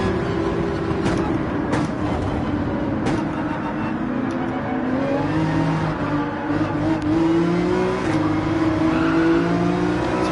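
A race car in Gran Turismo 7 accelerates hard, its engine droning steadily and rising in pitch through gears, loud and continuous with faint tyre and chassis noise underneath.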